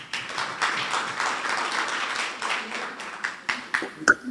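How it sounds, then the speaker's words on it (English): A small crowd claps steadily for several seconds, then the applause thins into a few scattered claps before fading out. "I think that deserves a round of applause."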